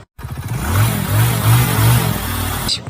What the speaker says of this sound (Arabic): موتوسيكل يا حلاوة